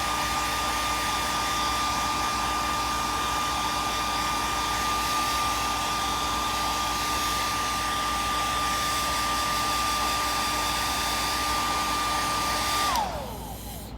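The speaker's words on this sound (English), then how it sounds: "So I'm gonna blow dry." A hair dryer blows steadily and loud on homemade dreads, a constant whining roar with a tonal hum that holds for about thirteen seconds before abruptly switching off and winding down.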